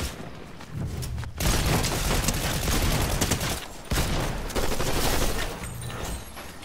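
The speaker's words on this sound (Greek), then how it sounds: "Κάποιος με πυροβολάει." Rapid bursts of gunfire from a Fortnite match, loud and continuous with booming impacts and brief gaps, no voices over it.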